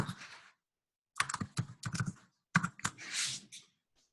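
Typing a name on a computer keyboard: close, crisp key clicks in three short bursts separated by brief pauses, with no talking.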